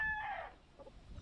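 Chickens on St. Croix: a short, close rooster call with a tonal, drawn-out start, followed by soft clucking, heard alone.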